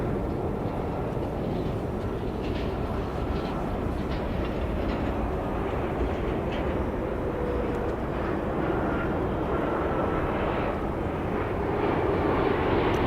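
An airliner landing at Dallas Love Field with spoilers up and thrust reversers deployed gives a steady, loud broadband roar that holds for the whole stretch without a break.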